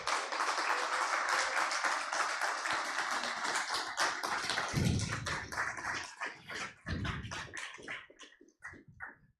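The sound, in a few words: audience applause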